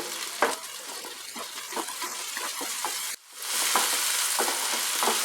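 Chopped vegetables with green chillies frying on a high flame, a constant loud sizzle broken by stirring clatter, briefly dropping out before flaring up even louder.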